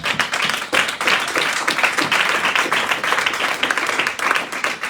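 A church congregation at a Sunday service claps together to acclaim the Lord, producing a loud, steady, dense patter of many hands with faint voices mixed in.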